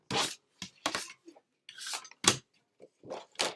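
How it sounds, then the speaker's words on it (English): A scraper rasps repeatedly across a Cricut cutting mat, clearing off small leftover bits: short, close, dry scraping strokes in irregular bursts with brief pauses, and no voice. "I'm just going to use my scraper and scrape those right off."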